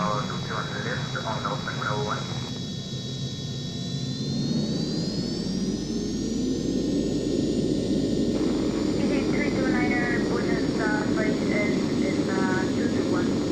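Citation Jet 525 engines spooling up during a takeoff roll in a flight simulator game, a steady jet whine with a rising tone under continuous talk from a speaker and radio-style chatter.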